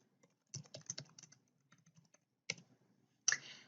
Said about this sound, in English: So I'm just going to type in a sample address here.